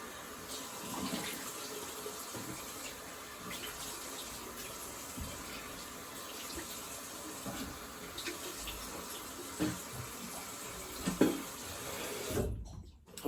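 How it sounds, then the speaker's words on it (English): Tap water runs steadily into a sink while a shaving razor is rinsed, a soft continuous splash with small clatters near the end before it cuts off. "I'm just going to do a quick rinse, just a moment."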